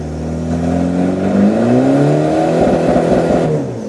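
A diesel car revs hard in third gear on a slippery, rain-soaked road, its engine note climbing steadily and loud and close for nearly four seconds, with no voices over it.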